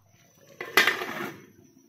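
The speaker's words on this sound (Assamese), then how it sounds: "মাছখিনি দিয়াৰ পিছত এইখিনি ঢাকনখন লগাই দিম" A metal lid is set down onto a pot of fish curry in a kitchen, giving one short clatter and a brief ringing scrape, close and fairly loud, then quiet.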